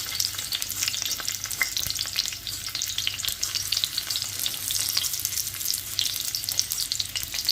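Garlic, onions and ginger sauté in a hot pan with a steady, dense sizzle and crackle, close and continuous throughout, with faint stirring and no talking.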